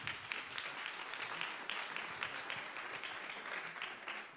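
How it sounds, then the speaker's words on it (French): A festival audience applauds the event partners with dense, continuous clapping that stays even from start to finish and sounds soft and somewhat distant. "Applaudissements s'il vous plaît pour tous ces partenaires."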